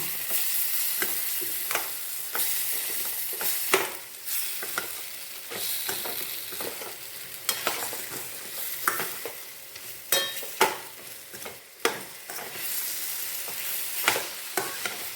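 Vegetarian 'liver' fry is stir-fried in a pan with a soft, continuous sizzle, broken by repeated sharp clinks and scrapes of the spatula, close by and with no voices.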